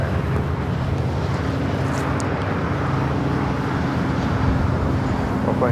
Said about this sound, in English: Emirates is now lined up for takeoff